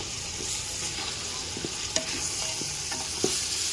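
Chicken biryani masala being stirred in a hot pan, a steady sizzle with a few scattered scrapes of the spoon against the metal.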